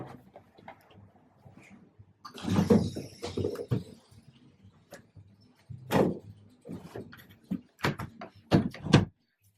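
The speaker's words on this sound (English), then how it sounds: "let me shut the door." A door is handled and shut in a room, with a soft rustle, a clattering push and then a few sharp knocks and clicks spread over several seconds, fairly close.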